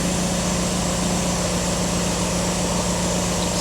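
A 2024 Mini Cooper S convertible engine running at idle, a constant dense droning hum with a steady low pulse, close and unbroken.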